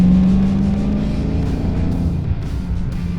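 A 2021 Dodge Charger Hellcat Redeye's supercharged engine revs at about quarter throttle, a loud, close, deep rumbling drone that holds steady and eases slightly as it settles.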